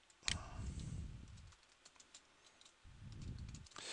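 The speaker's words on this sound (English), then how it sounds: "So I'm just going to type in a string" Bursts of rapid keystrokes on a computer keyboard, two runs of typing separated by a brief pause, close and clear with no voices.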